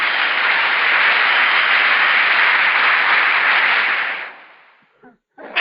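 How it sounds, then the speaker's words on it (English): Studio audience applause welcoming a guest onto a show, a loud, dense wash of clapping that holds steady for about four seconds, then fades away with a brief trailing burst at the end. "please give him a big round of applause, Mr. Lenny Atencio."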